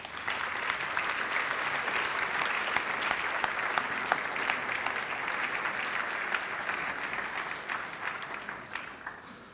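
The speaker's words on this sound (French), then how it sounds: "Applaudissons-les." An audience claps steadily for prize-winning students at a national history competition award ceremony, a thick, even wash of hand claps lasting about ten seconds without pause.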